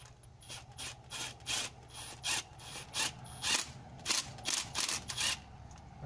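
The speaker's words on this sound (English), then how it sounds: "I'm just going to screw these little self-tappers. Just in like that, not too far." Small self-tapping screws being driven in by hand during rear crankshaft seal removal on a VW Golf Mk III, giving a series of short, close rubbing and scraping bursts in an irregular rhythm, with no talk.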